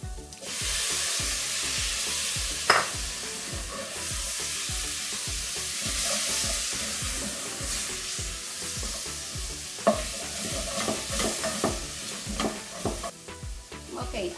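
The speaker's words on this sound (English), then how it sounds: "Now we are going to add tomatoes." Tomatoes fry and sizzle in a pot for aloo gobi while a spoon stirs them in quick, regular scrapes, a close, continuous hiss punctuated by clinks and knocks, with no talking.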